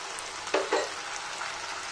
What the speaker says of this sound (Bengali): তো বন্ধুরা দেখতেই পাচ্ছেন এটা ভাজা ভাজা মতন হচ্ছে